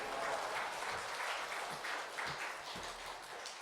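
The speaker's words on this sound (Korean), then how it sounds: "우리 큰 박수로 할렐루야로 맞이하겠습니다" A church congregation at a Sunday afternoon service claps for an arriving missionary pastor, a soft, distant spatter of applause that holds steady and then thins out.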